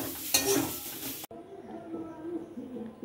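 Fish chop filling masala with chopped coriander and toast crumbs scraped and stirred in a pan as it dries, a loud burst of stirring and scraping for about a second, then a soft low sizzle with faint clinks.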